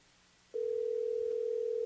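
Telephone ringing tone during a phone call: after a short quiet moment a steady, loud, continuous electronic tone starts abruptly and holds unbroken, with no talk over it.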